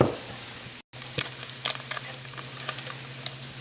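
Butter melting in a hot pan while shrimp and grits are cooked gives a soft, steady sizzle with scattered sharp pops and spits, fairly quiet and close.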